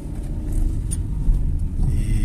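A car's engine during a driving lesson, rising slightly as the learner presses the accelerator while releasing the clutch on a downhill start; a steady close low rumble with mild swells, no talk.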